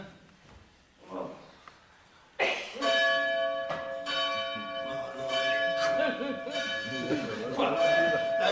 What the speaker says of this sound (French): C'est les cloches